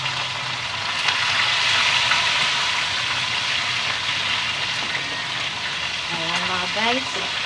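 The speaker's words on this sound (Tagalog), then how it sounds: "Prito na ako" Food frying in a pan, a steady dense sizzle and crackle throughout, with a voice briefly speaking near the end over the hiss.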